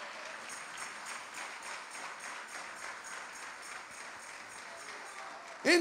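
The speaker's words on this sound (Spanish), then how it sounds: "Demos palmas de alabanza para el Señor." A church congregation claps in praise during a sermon in Santiago, Chile, producing a soft, even patter of clapping that sounds distant and low, with a brief louder bump at the very end.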